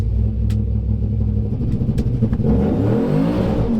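A 2018 GMC Denali with a 6.2 V8 and eight-speed, fitted with an MSD two-step set at 1600 RPM, holds a loud, steady low rumble that climbs into a rising rev near the end, close and with no talk.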